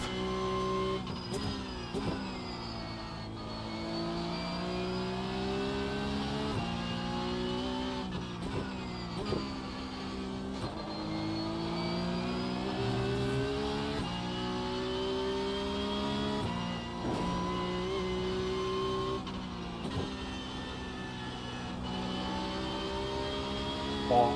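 A Porsche Cup race car laps the Spa circuit, its engine heard from inside the car with a continuous strained drone that rises and falls through repeated revving upshifts and downshifts, steady and fairly loud throughout.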